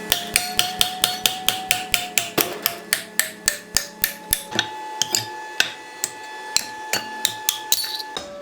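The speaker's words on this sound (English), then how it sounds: "Let's put it in a vise and try to break it." A hammer strikes an aluminum MIG weld clamped in a vise to try breaking it, with about two dozen sharp metallic blows in a steady, fast rhythm, close and loud with ringing overtones.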